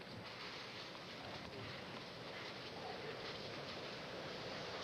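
Strong wind buffets an outdoor tennis court during a 1987 Key Biscayne match, a steady loud roar of gusting air and microphone noise filling the whole stretch with no talk.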